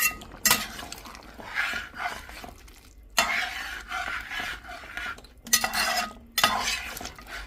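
A spoon stirs a pot of chicken stew in long scraping, sloshing passes, broken by short pauses, close and fairly loud with no talking.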